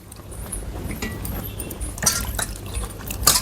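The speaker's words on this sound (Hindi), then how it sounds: "तो बनाने से पहले इसको अच्छे से वॉश कर लेते हैं।" Bitter gourds (karela) are washed in water in a kitchen, giving soft splashing, trickling and dripping sounds that grow a little louder with brief sharp splashes near the end.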